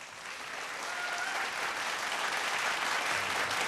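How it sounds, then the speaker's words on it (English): A studio audience at a televised Papua New Guinea singing competition show claps steadily, a dense and sustained burst of applause that holds at an even level throughout. "Another round of applause."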